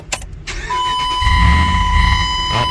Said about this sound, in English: we're gonna start the car up